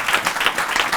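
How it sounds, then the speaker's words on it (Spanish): A full audience claps loudly at a cultural heritage forum, a strong, fast burst of applause with a slightly pulsing rhythm and no talk. "Un aplauso muy fuerte."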